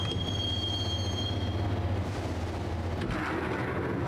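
A train ride in the video game Max Payne: a steady low rumble of the carriage with a thin high squeal over it for the first half, then a brief metallic clatter, fairly quiet and with no voices.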